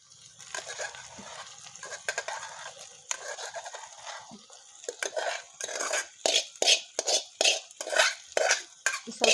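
Ingredients are stirred and fried in oil in a pan, with a metal spoon scraping and clinking against the pan in repeated strokes that grow louder and more rhythmic toward the end, over a faint sizzle.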